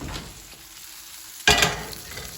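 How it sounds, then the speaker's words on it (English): Steady frying sizzle of a pork chop in a pan, with a sudden louder burst of crackling and hiss partway through as the meat shifts. "You can hear it sizzling."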